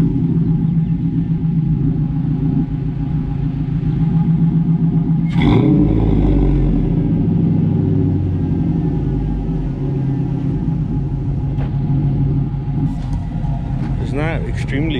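A 2006 Toyota Tacoma pickup with a swapped-in LS 5.3 V8 is started up and idles with a deep steady rumble, close by, and a voice talks over it near the end.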